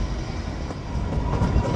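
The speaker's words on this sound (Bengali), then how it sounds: "ট্রেন ছেড়ে বেরিয়ে যাচ্ছে।" The Kalka–Shimla toy train pulls out of Solan station with a quiet, steady low rumble of rolling coaches that swells slightly as it moves.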